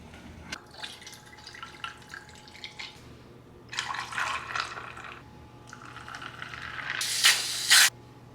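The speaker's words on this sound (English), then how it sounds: "we're just going to let this simmer and thicken up for about 15 minutes" Apple cider syrup simmers in a pot on a home stovetop, giving a steady bubbling hiss with intermittent louder sputtering bursts near the end.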